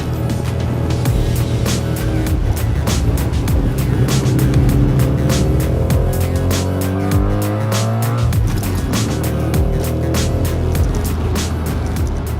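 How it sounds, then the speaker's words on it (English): A 1983 Mazda RX-7 with its rotary engine driving, steady loud engine drone with rising and falling revs and gear changes, heard close from inside or beside the car, no talking. "I drive a 1983 RX-7"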